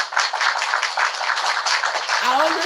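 A clapping sound effect played during a hair braiding tutorial livestream, a steady run of crisp handclaps at an even, fairly loud level, with a brief voice near the end.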